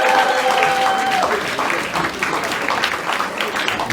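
A street crowd of Cuban protesters in Mexico applauding: dense, continuous clapping from many hands at moderate distance, with a brief whistle-like tone at the start.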